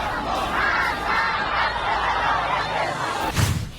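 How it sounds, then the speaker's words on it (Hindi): Large crowd chanting together at a funeral in Iran, a loud, continuous mass of shouting voices in rough unison, with a brief sharper burst near the end. "भीड़ ने खामेनेई को मौत दो के नारे लगाए।"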